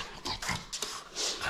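A dog whimpers over a toy in short, high, nasal whines and yelps scattered across the moment, with soft panting and rustling between them.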